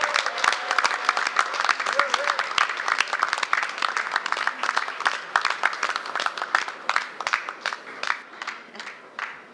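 An audience at a hotel opening gala applauds and cheers loudly, with dense sustained clapping for about ten seconds that thins slightly toward the end.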